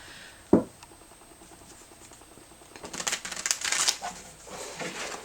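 Fountain Tarot cards being shuffled by hand, a sharp tap near the start, then a longer burst of riffling, papery flutters building toward the end, close and with no talk.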